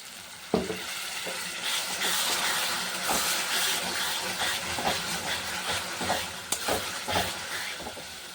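Spice paste sautéing in a pan, a loud steady sizzle and hiss up close, broken by several sharp spatula scrapes and stirring knocks, with no talking.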